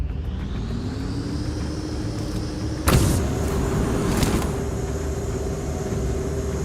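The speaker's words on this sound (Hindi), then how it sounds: "और सामने से कार जा रही है।" Car in a video game engine droning steadily as it passes by, with a sharp burst of noise midway and a second one shortly after, no voices present.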